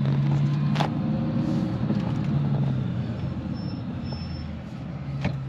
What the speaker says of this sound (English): So now I'm going for a ride in this beautiful GT500 Shelby.